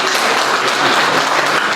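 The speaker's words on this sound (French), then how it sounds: "oui, il y a de quoi applaudir" Steady applause from a crowd at a life celebration in Paris fills the short moment at full volume, with many hands clapping together in a dense, even roar.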